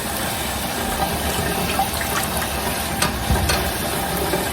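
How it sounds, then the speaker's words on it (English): Cool tap water running into a sink over grapes in a colander, a steady, even rush of water with faint clinks, close and alone with no talk. "start running some cool water into my other side of my sink with my colander"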